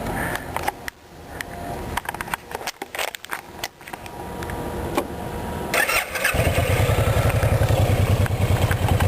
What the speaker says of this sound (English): That thump thump thump thump noise is great, especially for a V-twin this size.